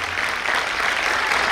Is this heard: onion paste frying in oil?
no